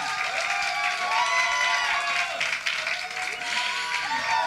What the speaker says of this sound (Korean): 다시 한번 박수로 환영해 주시면